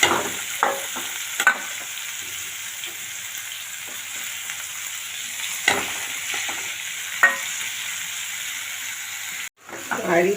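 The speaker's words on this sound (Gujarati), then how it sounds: "આ રીતે આપણે સરસ મજાને હલાવી લીધા છે ભીંડાને" Okra frying in oil in a pan while being stirred, with a steady close sizzle and a few sharper scrapes of the spoon against the pan.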